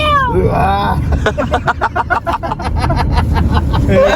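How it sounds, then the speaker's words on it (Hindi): Cat meowing repeatedly in an outdoor street setting, with passing car noise and a busy background; mid-level, loud at times, with chatter nearby. "बिल्ली कौन लेके आया साथ में?"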